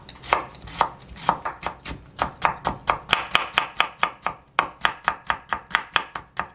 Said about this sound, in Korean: 이렇게 채를 썰어 주겠습니다